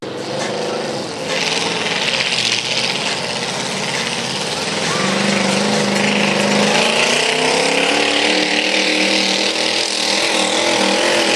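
Engine of an Oldstock pulling tractor in the 1850 kg class at a pulling event in Sebaldeburen, a loud busy roar that builds and rises in pitch under crowd noise and talk.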